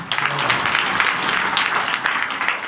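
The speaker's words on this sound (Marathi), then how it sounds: "एकदा जोरदार टाळ्या वाजवा" An audience at a devotional singing gathering in Shrirampur breaks into applause. The clapping is dense and continuous, with crowd noise in the background for a few seconds.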